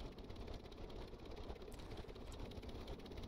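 Aircraft engine held at low throttle, around ten percent, while trying to lift off from a rough, rocky base strip; a steady, muffled mechanical drone runs throughout at an even, fairly quiet level.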